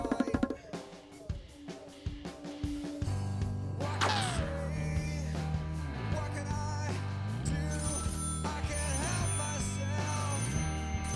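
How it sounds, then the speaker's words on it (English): A telephone rings in a comedic biblical sketch, its electronic ringtone repeating in a steady musical pattern that stays loud and close for most of the clip. "God wants you to get the phone, Simon Peter."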